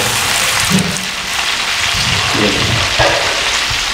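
Thirty kilos of beef fry on a slow burner, a loud, dense sizzle with scattered crackles and a few low knocks of stirring, close and constant.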